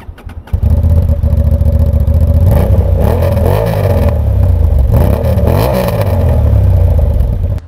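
A Honda CB750 Hornet motorcycle engine fires up close by and revs hard, with rising and falling engine tones as it accelerates and sustains a loud, throaty drone.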